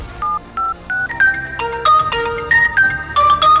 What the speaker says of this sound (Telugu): ఉండు రాజానికి ఫోన్ చేస్తాను